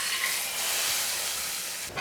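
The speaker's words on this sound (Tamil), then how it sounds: "இப்போ இந்த தாளிப்பை சாம்பாரில் வந்து சேர்த்துடலாம்." Mustard seed and curry leaf tempering hits hot idly sambar with a loud, continuous hissing sizzle that holds steady for about two seconds.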